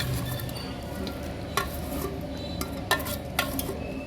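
Mixed vegetables (bottle gourd, flat beans, pointed gourd) with chopped onion and chilies for vegetable khichuri being stirred in a pot, a steady low sizzle broken by a few sharp scraping clinks of the spoon against the metal.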